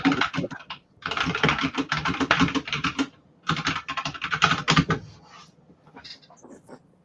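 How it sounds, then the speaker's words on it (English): Rapid clicky typing on a custom mechanical keyboard comes in three dense bursts separated by brief pauses, close and fairly loud, then tapers into a few scattered keystrokes. "What are you typing over there? It sounds like you're trying to hack into like the system."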